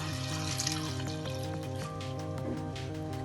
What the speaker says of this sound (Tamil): இது முழுகிற அளவுக்கு நம்ம தண்ணி விட்டுக்கலாம்